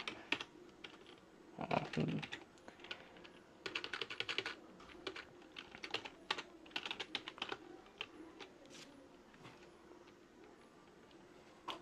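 Rapid, uneven clicking of fingers typing code on a computer keyboard, close and fairly quiet, in bursts with short pauses and a louder cluster of keystrokes near the start.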